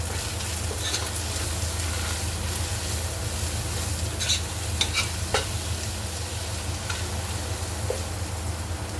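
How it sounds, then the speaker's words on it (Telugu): Prawns sizzle steadily in a hot pan for biryani while a spoon stirs and scrapes now and then, with a low hum underneath. "రొయ్యలన్నీ వేగిపోయినాయి"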